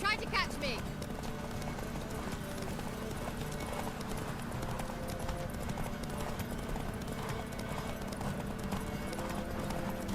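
Horse hooves galloping in the video game The Witcher 3, a steady rapid clip-clop that opens with a short whinny and runs under ongoing talk.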